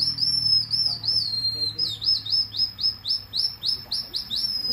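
A series of bright, rising whistled chirps repeats in quick succession, a human-made bird whistle imitating birdsong, clear and close over a low background hum, at a tribal village in Palawan, Philippines.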